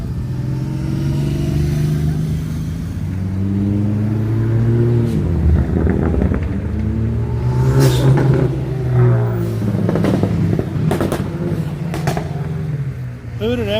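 A Hyundai sports car engine revs and accelerates up close and loud for several seconds, its pitch rising and falling, with outdoor traffic noise around it.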